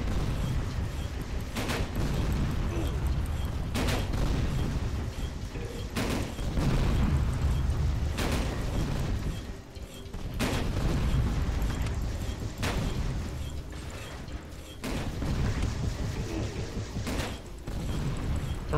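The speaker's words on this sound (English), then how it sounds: "Rapid fire shots." Rapid gunfire from enemy turrets in Tower of Guns 2, a steady stream of shots with periodic heavier bursts every couple of seconds over a constant loud game backdrop.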